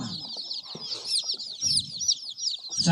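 Free-range village chickens cluck steadily and up close on a village poultry farm. Quick, high chirping runs over the clucks throughout, with no talking.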